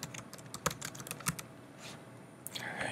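Typing on a computer keyboard: a quiet run of individual key clicks, a few sharper taps among them, close up and with no talking.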